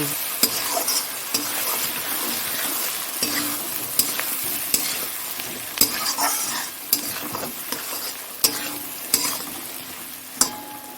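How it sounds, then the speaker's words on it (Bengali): Spices and cabbage frying in a pan, sizzling steadily while a utensil stirs and scrapes, with sharp clinks against the pan at irregular intervals throughout. "একটু জিরে ধনের গুঁড়ো দিয়ে দিচ্ছি আর একটু গরম মশলার মধ্যে ইয়ে করা আছে গুঁড়ো করা আছে আর একটু লঙ্কার গুঁড়ো দিয়ে দিলাম ভালো করে একটু নাড়াচাড়া"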